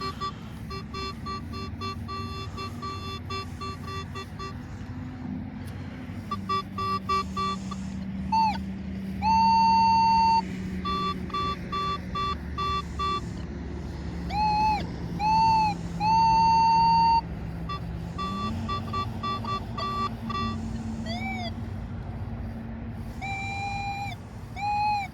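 Metal detector tones from a Nokta Legend sweeping in a park: repeated short beeps and warbling pitched tones over a low steady hum, some rising and falling, with no talking.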